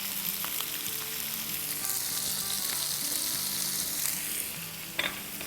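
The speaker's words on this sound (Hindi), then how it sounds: "और इसको सॉटे करेंगे। गोभी थोड़ी टेंडर हो जब तक इसे हम पकाएंगे।" Cauliflower with salt, coriander, cumin and red chilli powder sautés in a pan, a steady close sizzle broken by occasional stirring scrapes and a sharp clack near the end.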